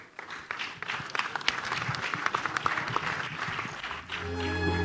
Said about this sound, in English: Please give them a louder round of applause, ladies and gentlemen.